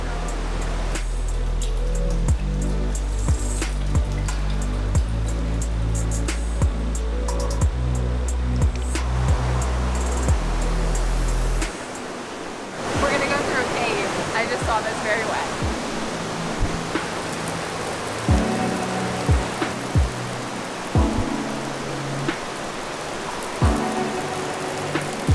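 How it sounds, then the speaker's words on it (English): River rushing through Tolmin Gorge in Slovenia's Julian Alps, a steady loud roar of flowing water close by that fills the whole scene, with a low rumble in the first half and scattered small knocks and footsteps. "we're right by this river flowing through"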